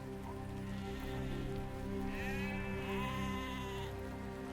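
A sheep bleats in a historical video game, two wavering calls close by over a steady hiss of rain and a low ambient drone.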